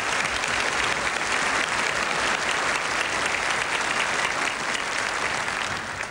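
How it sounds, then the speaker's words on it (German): Steady applause from a large television studio audience, continuous and dense throughout with no pauses, loud and close. "Wir sollten diesen 80 vielleicht einen kleinen Applaus schicken."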